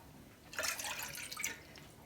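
Two cups of water poured into a cooking pot, a soft splashing pour that starts after a brief quiet moment and runs fairly faint to the end, with no talking.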